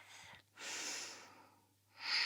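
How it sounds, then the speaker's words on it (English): Soft breathing during a beginner yoga session in bow pose, with two gentle airy breaths separated by a short pause, close and quiet with no talking. "Inhale, one more breath."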